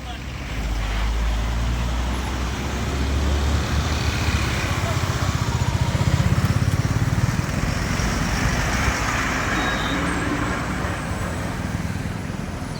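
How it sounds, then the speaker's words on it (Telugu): Steady morning road traffic builds up near a narrow railway bridge at Mallapur/NFC, a constant dense roar of engines and passing vehicles without a break. "ఇప్పుడు ఏడు గంటలు కాకముందేనే ఈ విధంగా ట్రాఫిక్ ఉంది"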